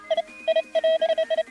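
A metal detector on a beach gives a run of short electronic beeps, about eight quick tones in an uneven pattern, close and clear with no talking.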